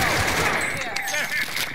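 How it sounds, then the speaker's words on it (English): Rapid assault rifle fire in Cold War Warzone on Rebirth Island, a dense continuous burst with bright crackle running throughout, loud and close, with game noise layered around it. "Here, it's an assault rifle."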